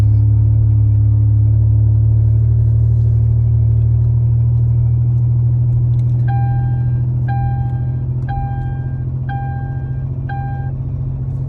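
An old car with 414,000 miles on it climbs a hill slowly, its engine a steady low rumble throughout. A series of evenly spaced electronic beeps joins in over the second half.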